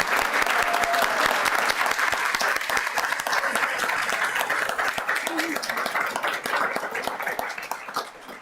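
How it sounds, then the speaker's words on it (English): Audience applause fills a town council meeting room: sustained, dense clapping from a crowd, steady and loud throughout, tapering slightly at the very end. "Would you please join me in giving them a round of applause?"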